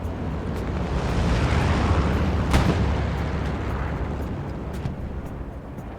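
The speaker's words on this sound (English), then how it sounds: "Piat round into that windmill, trying to take out the snipers." A PIAT round bursts against a windmill in the Hell Let Loose WWII shooter, a broad rumbling blast peaking mid-clip within a continuous roar of distant battle noise, no talk.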